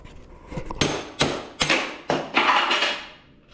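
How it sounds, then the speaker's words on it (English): A pressed-in bicycle bottom bracket is hammered out with about five or six sharp, ringing metallic blows at an uneven pace, close and loud, with no speech. "the bottom bracket's pressed in there, so you gotta hammer it out."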